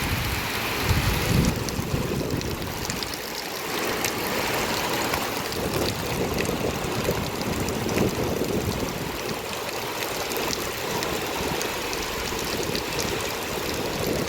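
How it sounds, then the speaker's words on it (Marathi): Steady rain pours around a cattle shed, a dense, continuous hiss and patter that holds a constant level throughout, with no voices. "शांतपणे पाऊस चाललाय."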